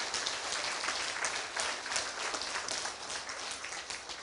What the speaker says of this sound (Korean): 자, 하나님께 영광의 박수를 올리도록 하겠습니다.